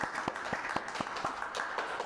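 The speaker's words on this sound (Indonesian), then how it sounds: "Beri tepuk tangannya dulu dong." A small group clapping, a brief burst of applause with distinct hand claps at an even pace, moderately close, no voices over it.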